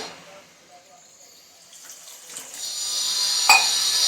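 Water runs and splashes steadily, starting quietly and growing louder toward the end, with a brief clink near the finish.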